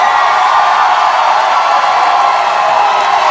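A crowd cheers and roars for Ricki Lake at a Drop The Mic rap battle against Jerry Springer: a steady, dense wall of loud crowd noise that holds evenly throughout, with no distinct voices rising out of it.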